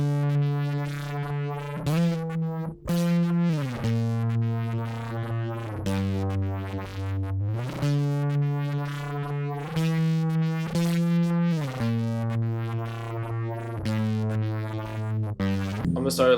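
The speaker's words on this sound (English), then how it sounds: "I'm basically just gonna take this guitar and put like a fuck ton of distortion on it." Electric guitar drenched in heavy distortion from the Thermal plug-in for a production, playing sustained, buzzing, harmonically rich notes that shift pitch every couple of seconds in a slow riff, loud and alone.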